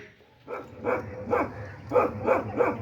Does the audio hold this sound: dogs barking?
yes